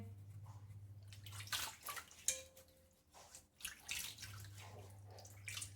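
Water sloshes and splashes in irregular bursts as suran (elephant foot yam) is swished around in a basin, quiet and close, with a low hum underneath.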